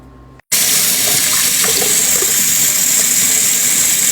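Hot water gushes steadily from a kitchen tap into a sink, a loud continuous broadband splash that starts abruptly after a brief quiet moment and runs unbroken, with no talking.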